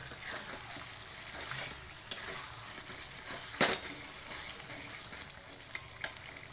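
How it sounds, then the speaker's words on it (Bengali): Spice masala sautéing in hot oil gives a steady close sizzle, with a few sharp scrapes and clinks of a spoon stirring against the pan. "আমি আর একটু কষিয়ে নিই তারপরে ওই গরম জলটা এখানে ঢেলে দেবো"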